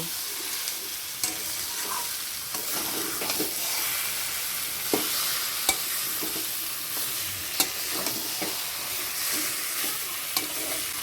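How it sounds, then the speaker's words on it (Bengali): Mashed boiled banana flower is stirred into fried coconut in a hot pan, a loud steady sizzle broken by repeated scraping spoon strokes and occasional sharp clinks against the pan. "এবার দিয়ে নেড়ে চেড়ে নেব"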